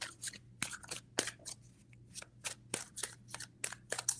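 Tarot cards shuffled by hand in a series of quick riffling bursts, each a brief crisp rattle, repeating steadily and close up with no talking.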